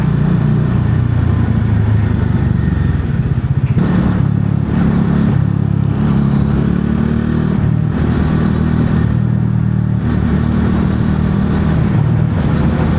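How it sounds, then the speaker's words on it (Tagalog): A motorcycle passes close by near Asin Tunnel, its engine a loud, steady roar that fills the whole stretch with a continuous rumble and no talking. "Uy, may nakamotor."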